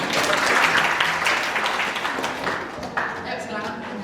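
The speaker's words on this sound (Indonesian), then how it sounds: "Tepuk tangan berbalas ya." A lecture hall audience at a guest lecture on audit materiality breaks into dense applause, loud and near at first, then easing slightly, with voices mixed in.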